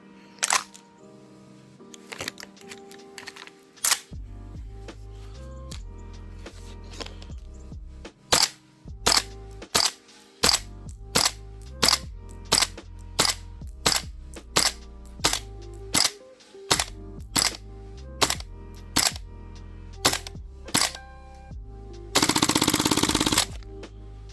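A gas blowback airsoft rifle fired outdoors at about -7°C, a long string of sharp close single shots in uneven rhythm, with a brief burst of hissing gas near the end.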